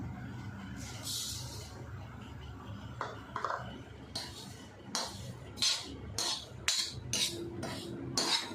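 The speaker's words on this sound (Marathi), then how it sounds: "जिरं भाजून घेऊया साधं" A utensil scrapes and clinks against a pan while cumin seeds are dry-roasted for a traditional goda masala, giving intermittent metallic taps and stirring scrapes, close and fairly quiet, with no talking.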